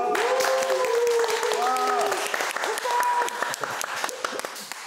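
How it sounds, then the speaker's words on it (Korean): An audience at a lecture on heresy claps to welcome a priest, a sustained round of applause running under voices, with voices also heard as the clapping thins toward the end. "어떤 주제가 될지 여러분 박수로 맞아주시기 바랍니다"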